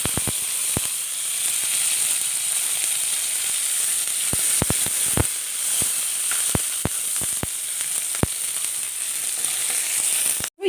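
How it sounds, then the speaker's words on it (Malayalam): Chopped ginger and garlic sizzling in hot oil with curry leaves, giving a steady bright hiss broken by scattered sharp pops and clicks, close and with no voices. "ഇതിലേക്ക് ഇനി എടുത്തു വച്ചിരിക്കുന്ന ഇഞ്ചിയും വെളുത്തുള്ളി അരിഞ്ഞത് അത് ഇട്ട് കൊടുക്കുക."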